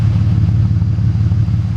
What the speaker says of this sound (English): Listen to the sound. But for some reason, it's idling very low.